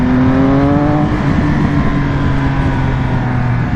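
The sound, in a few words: 2020 Triumph Speed Triple RS motorcycle engine accelerating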